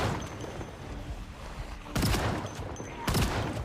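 Shotgun blasts in the zombie survival game Project Zomboid: two loud, heavy booms about a second apart, each with a short ringing tail, rising over a steady murky game background.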